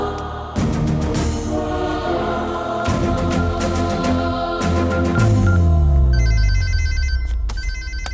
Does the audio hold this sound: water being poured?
no